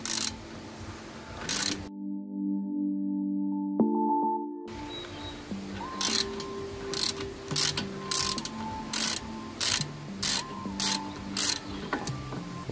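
A ratchet loosens a screw while coilovers are fitted to a BMW E36 or E46. Bursts of sharp, repeated clicking come in quick strokes after a short quiet gap, with faint mechanical tones underneath.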